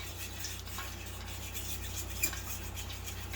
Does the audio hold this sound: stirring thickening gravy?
yes